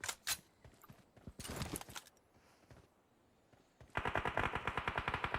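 Rapid bursts of automatic gunfire in a video game, aimed at the player, come in several clusters, with the loudest sustained burst at the end.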